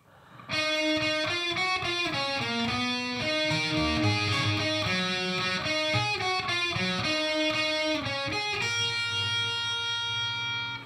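Electric guitar slowly playing the riff from a song, with distinct picked notes and chord changes in a driven, slightly distorted tone, steady and continuous with no talking.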